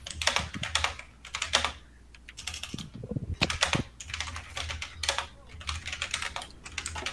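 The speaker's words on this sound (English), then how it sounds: "There's just furious typing." Furious typing on a computer keyboard, rapid bursts of clattering keystrokes in uneven clusters, close and busy, with no voices.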